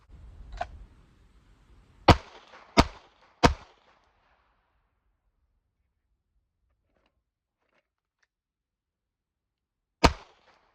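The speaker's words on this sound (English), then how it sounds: "So now I'll do a tactical reload." Pistol tactical reload with a magazine change during a shooting drill: a soft rustle, then three sharp metallic clacks in quick succession, silence, and one more crisp click near the end, no voices.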